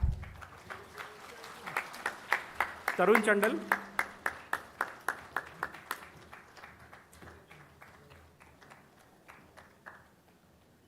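At a university convocation ceremony in a large hall, a steady rhythmic clap of many hands in unison fades gradually over ten seconds while a speaker reads a name aloud over it.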